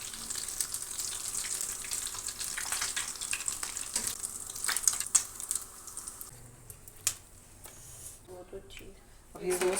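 Steady crackling sizzle of Lebanese kebabs frying golden brown in hot oil, with a voice speaking faintly over it and some clinking near the end.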